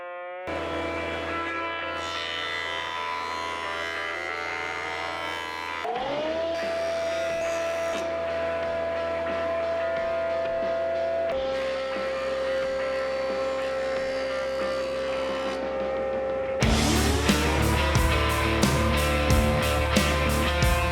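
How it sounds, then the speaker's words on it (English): A CNC machine mills a piece of walnut, giving a steady whining motor tone that shifts pitch in distinct stages, with a louder, harsher cutting passage near the end and no talking. "I have a piece of walnut, and now we can start milling."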